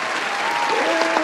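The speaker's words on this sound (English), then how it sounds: "round of applause for Althea" Studio audience applause for guest Althea on a talk show, a short, steady wash of clapping with a faint voice or tone running underneath.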